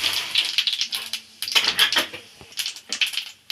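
Whole cumin seeds splutter in hot oil for tempering, a close, rapid, irregular crackle of small pops in short bursts.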